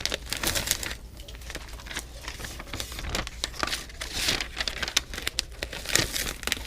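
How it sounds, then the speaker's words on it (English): Adhesive labels peeled off their backing on an Advent 300 labeling machine for metal cans: a steady, close crinkling and tearing rustle with small ticks, continuous throughout with no talk. "Peel off a couple labels."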